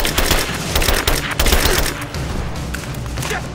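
Heavy gunfire in the video game Rise of the Tomb Raider, a dense fusillade of overlapping shots and thuds that stays loud and close throughout, with no pauses.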